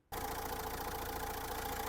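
A Renault Megane 2012 with a 1.6-litre diesel engine starts up abruptly and settles into a steady, loud, even idle with a close rattly diesel clatter and no talking.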